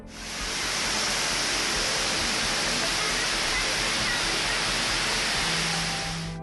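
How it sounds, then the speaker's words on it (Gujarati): Rainwater rushes and cascades continuously down the stone steps of Girnar mountain, a dense steady roar of falling water that holds at constant loudness throughout. "ગિરનાર પર્વતની સીડી પરથી પણ ધોધની માફક પાણી વહેતા નયનરમ્ય નજારો સર્જાયો હતો"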